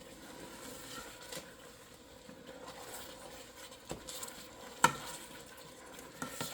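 Soft scraping and gentle clinks of a utensil stirring melting chocolate in a pot, quiet and irregular, with a sharper knock near the end.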